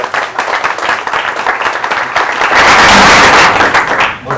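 Audience applause at a Spanish journalism book presentation, a dense steady wash of clapping from a room of people that swells louder toward the end, with no talk over it.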